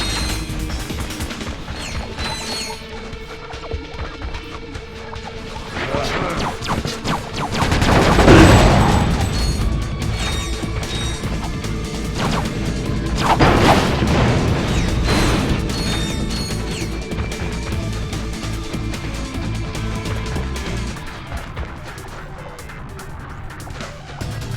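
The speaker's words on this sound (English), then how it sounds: "Explosions are pretty!" Loud crashing blasts and rumbling booms with mechanical clatter, two big bursts standing out amid a continuous din of destruction in the PS2 video game Ratchet: Deadlocked.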